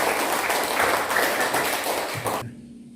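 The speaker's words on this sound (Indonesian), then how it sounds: "berikan tepuk tangan untuk Maria" Applause from students in a classroom for a classmate, steady dense clapping that stops abruptly near the end, leaving a quiet room.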